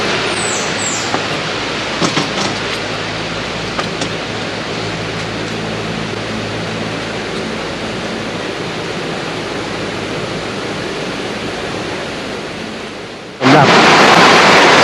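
Waterfall at Phaya Yen camp: a steady, loud rush of falling water fills the clip, then a sudden louder burst of noise comes at the very end.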